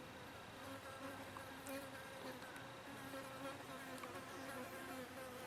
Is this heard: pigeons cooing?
no